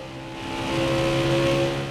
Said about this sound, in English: There's my downshift.